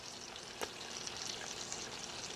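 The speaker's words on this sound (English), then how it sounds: "It's sizzling." A New York strip roast fresh out of a Ninja Foodi 8-quart cooker sizzles in a steady, faint hiss with a few small pops and crackles, heard alone without voices.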